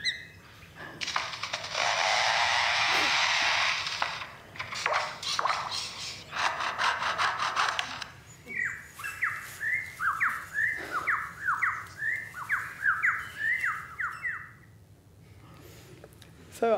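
Lyrebird mimicking forest work, with a dense, roaring chainsaw-like buzz for several seconds followed by a rapid series of mechanical clicks and whirs like a camera motor drive, close and clear amid bush ambience.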